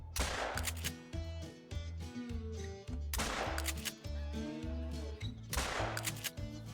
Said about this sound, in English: Let's try to get the other one with the shotgun.